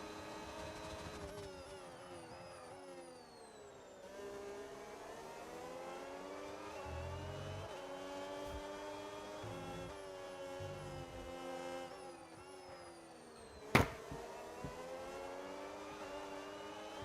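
Formula 1 racing car engines in the F1 26 game sound as a steady, fairly faint high-pitched whine with rising and falling gear pitches, a brief sharp bang near the end, and no one talking.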